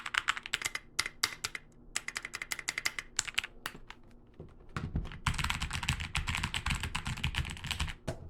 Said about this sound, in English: I will be silent for a few seconds to let you hear the sound of this keyboard.